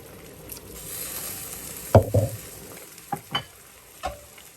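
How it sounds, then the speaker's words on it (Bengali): Magur catfish goes into a pan with beans and tomato, giving a few sharp clatters and splashes over a soft, low sizzle, close and otherwise quiet. "আমি মাগুর মাছটা বেঁধে রেখেছিলাম, সেই মাছটা দিয়ে দিচ্ছি।"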